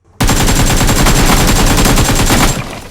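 A loud, rapid burst of automatic gunfire in the video game BGMI starts abruptly and rattles continuously for over two seconds before cutting off.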